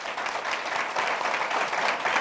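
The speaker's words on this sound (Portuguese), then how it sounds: "Salva de palmas" A round of applause from an audience at a business talk, a continuous wash of many hands clapping together at even strength from start to finish.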